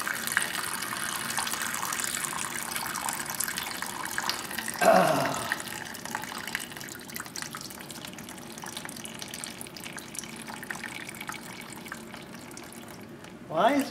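Water runs and trickles steadily out of a disassembled 1980 Chevy Silverado Dana 44 front axle, a continuous close splashing flow with brief louder gushes near the start and end, while people talk over it.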